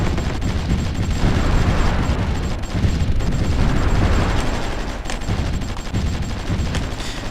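Dense, continuous bombing and gunfire from the strategy video game Supreme Ruler Ultimate, loud rattling bursts and booms layered into a constant roar with no pauses.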